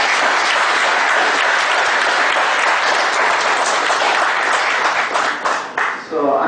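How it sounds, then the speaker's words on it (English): A hall audience gives a speaker a big round of applause at a talk on conflict management in auditing, dense steady clapping that fades near the end as a voice begins. "Please give him a big round of applause."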